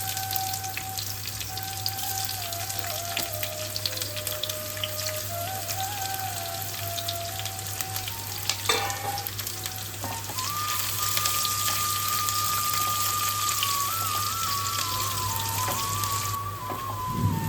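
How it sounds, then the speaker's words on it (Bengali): Chopped onion fries in oil with whole spices and dried chilli, giving a continuous soft crackle much like rain. A steady hum and a faint tone run through it, and no one speaks. "এদিকে পেঁয়াজটা আমাদের সোনালি রং করে ভাজা হয়ে গেছে।"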